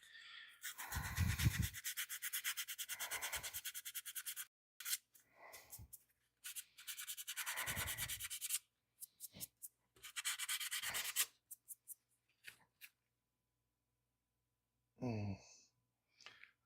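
Sandpaper of 180 grit rubs back and forth in close, scratchy bursts, stopping and starting with gaps between strokes, while handmade Christmas presents are worked on.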